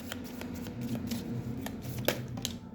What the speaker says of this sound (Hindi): यहाँ से भी कुछ कार्ड लेंगे।